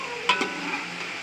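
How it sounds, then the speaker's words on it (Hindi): Chicken pieces fry for korma in a pan, a soft continuous sizzle with a couple of quick stirring scrapes early on, brief and close. "हमारा जो है अच्छे तरीके से फ्राई हो रहा है"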